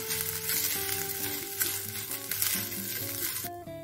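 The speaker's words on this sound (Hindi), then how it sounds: "वापस से इसी पैन में हम चावल को भून लेंगे" Rice roasting in a pan before being made into kheer sizzles and crackles steadily up close, with light stirring scrapes throughout and the sound dropping away abruptly near the end.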